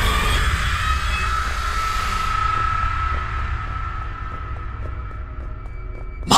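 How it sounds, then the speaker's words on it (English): A train roars past in a horror video game, a loud broadband rush with a sustained high whine that gradually fades, followed by a steady rhythmic clatter of wheels over track joints, with no talk. "Casually almost get ran over by a train."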